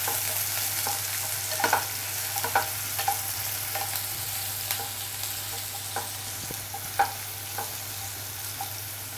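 Onion sautéing in hot oil, a steady close sizzle with a low hum beneath and scattered light scrapes and taps as it is stirred, no voices.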